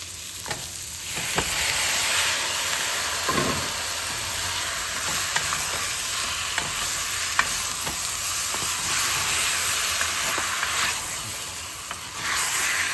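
Chicken pieces sizzle in a hot pot with pepper for tinolang manok, a loud, steady frying hiss with occasional faint clinks of stirring, no talking.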